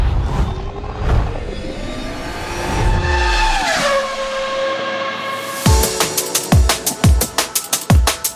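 A car driving and revving on the road, its engine note rising and falling through gear changes, then a run of sharp, rapid pops and bursts near the end, with no talk.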